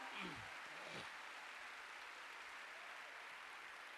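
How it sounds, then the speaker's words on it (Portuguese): A Baptist congregation at a Lagoinha church service applauds during the sermon, a soft, continuous wash of distant clapping with a brief voice at the start. "Pode aplaudi-lo?"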